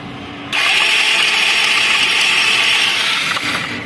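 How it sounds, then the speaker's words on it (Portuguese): A 160cc motorcycle with a noisy engine starts abruptly about half a second in, then runs at a loud, steady, buzzing idle close by for the rest of the moment. "Vou ligar a moto."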